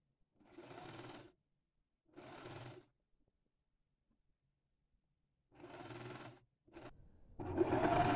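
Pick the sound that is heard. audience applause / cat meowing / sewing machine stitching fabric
sewing machine stitching fabric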